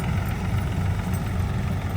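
A tractor engine idles in a harvested green gram field, a low steady rumble with even vibration that runs unbroken at moderate loudness, heard alone without voices.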